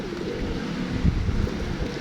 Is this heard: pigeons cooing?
yes